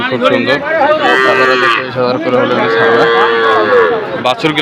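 Calves moo loudly and repeatedly at close range at the Ambari cattle market in Bangladesh, several overlapping bellows, with faint crowd murmur behind them.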